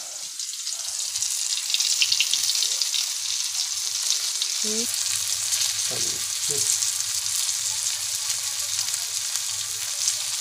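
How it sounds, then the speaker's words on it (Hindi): Bombay duck (bombil) fish frying in a pan at home, a steady loud sizzle running throughout, with a few brief clinks and a faint splash of water partway through. "गडगडे बोंबील फ्राय होत आहेत मस्तपैकी"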